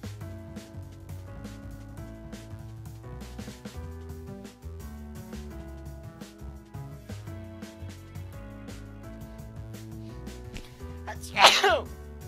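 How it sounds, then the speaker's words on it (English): One sudden, loud sneeze bursts out near the end over steady background music from a visual novel game, close and abrupt. "Man, I've been sneezing a lot lately."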